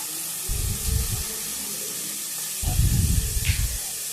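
Crab sautéing in oil and masala paste in a pressure cooker, two bursts of hissing sizzle with stirring in between, fairly close and without talk.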